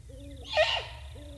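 A single hoarse, raspy begging squawk from great horned owl nestlings rises over a quiet background, with faint soft hoots from a distant parent before and after.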